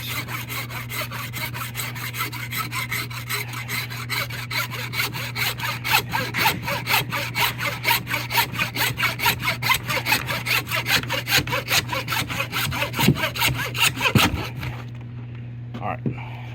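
A hand saw cuts through a deer skull while the head is caped and skinned for a trophy mount, producing a fast, even run of close, rasping back-and-forth strokes that stops near the end.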